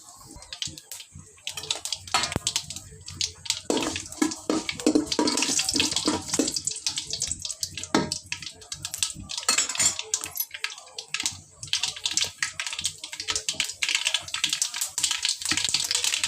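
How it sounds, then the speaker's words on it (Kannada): Mustard seeds crackling in hot oil as a Kannada-style seasoning begins for patrode made from wild colocasia leaves, with rapid irregular pops and clatter of metal utensils throughout, fairly loud and close, no talking. "ಇವಾಗ ಒಂದು ಚಮಚ ಸಾಸಿವೆ ಹಾಕ್ತೇನೆ ಚಟಪಟ ಅನ್ನಬೇಕು ಸಾಸಿವೆ"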